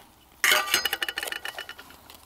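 Metal camping frying pans with folding handles clink and rattle together in a short burst of bright knocks that quickly trail off into lighter taps, close by and with no voices.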